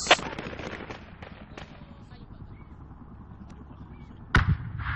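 In the video game Project Reality, two heavy artillery blasts land, one at the start and one near the end, over a low rumbling battlefield background with voices talking.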